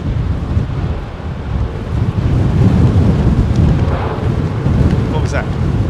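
A Boeing 787 landing on runway 09L at London Heathrow, its thrust reversers producing a loud, steady broadband roar that holds for the whole stretch, with wind buffeting the microphone.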